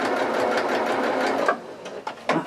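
A sewing machine stitches bias binding in a close, steady run of rapid mechanical whirring, then stops, and a few short clicks and bursts follow as the fabric is adjusted.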